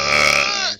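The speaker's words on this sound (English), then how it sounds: "Wow, that was an impressive burp." A long, loud, resonant burp rolls out in one continuous belch of just under a second, then cuts off abruptly.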